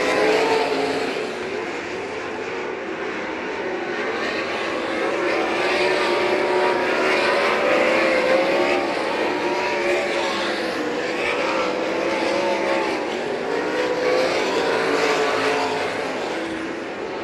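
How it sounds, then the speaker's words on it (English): UMSS sprint cars racing on the quarter-mile dirt oval at St. Croix Valley Raceway, engines roaring steadily as the pack circles, loud and sustained with a slight Doppler rise and fall. "Eight car lengths the advantage for Henderson over Tatnall in the 14"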